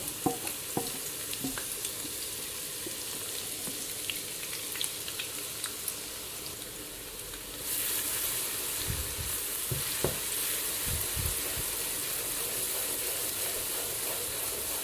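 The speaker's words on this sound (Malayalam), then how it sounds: "എണ്ണയൊന്ന് നന്നായിട്ട് ചൂടായി കഴിയുമ്പം അതിലേക്ക് നമ്മൾ മിക്സിയിൽ അടിച്ച് വെച്ചേക്കുന്ന അരപ്പുണ്ടല്ലോ, അത് ചേർത്ത് കൊടുക്കാം" Ground spice paste for shredded beef sizzling in hot oil with a steady crackling hiss, close up, punctuated by occasional stirring scrapes; the sizzle grows brighter partway through.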